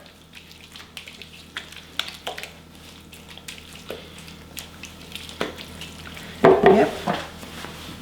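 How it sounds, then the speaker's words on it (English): Watergate salad with marshmallows, crushed pecans and pudding powder is mixed together in a bowl, giving soft squishy stirring with intermittent utensil clinks and one louder scrape near the end; a voice briefly speaks. "we're gonna just mix this all together"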